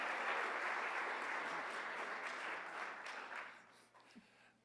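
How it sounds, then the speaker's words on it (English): An audience at a community leadership celebration applauds steadily for several seconds, a dense wash of clapping that tapers off toward the end. "Round of applause."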